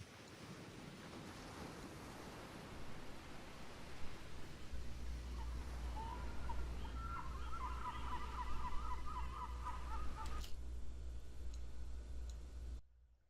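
Seagulls cry in a run of short, nasal calls over a steady bed of ocean surf and wind, placed as a sound effect in a mix; the calls bunch in the middle, then the scene cuts off abruptly.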